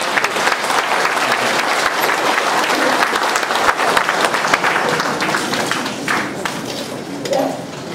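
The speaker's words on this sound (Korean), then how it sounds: "박수 한번 보내주시죠." Audience applause at a Korean political lecture event in Busan, a steady, full round of clapping from a seated crowd that continues evenly throughout, tapering slightly toward the end.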